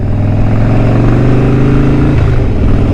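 Harley-Davidson motorcycle engine running steadily while ridden, a loud continuous low rumble with a gear shift near the end as the pitch drops and picks back up.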